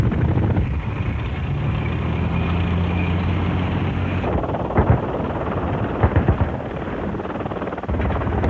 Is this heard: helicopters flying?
yes